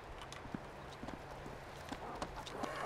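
Zombie footsteps following the player inside a dark building in DayZ, a string of faint, irregular thudding steps at a steady walking pace over a low background hum.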